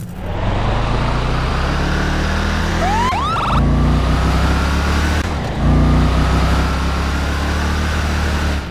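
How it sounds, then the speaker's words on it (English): A fast police car in Garry's Mod drives steadily with a loud, continuous engine drone and road rumble, joined partway through by a short rising siren whoop, with no talking. "Now I'll show you the fast police car."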